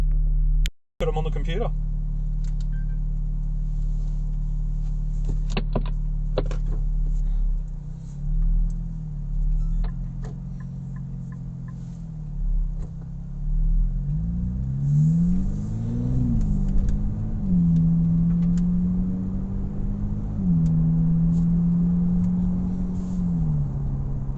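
A car is driven while filmed on a 4K dashcam. After a sharp click, a steady engine hum rises and falls as it revs and accelerates, with a person talking over it.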